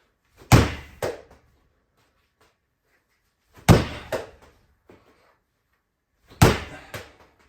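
A ball knocked over during an upper-body workout hits a hard surface, making three sharp thuds spaced about three seconds apart, each followed by a smaller rebound bounce or two, fairly loud with no talking.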